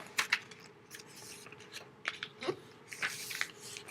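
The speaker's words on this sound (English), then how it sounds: "I'm going to fold it hot dog style." A sheet of scrap notebook paper is folded lengthwise by hand, giving soft, close crinkling and a few sharp creasing rustles over about four seconds with no talking.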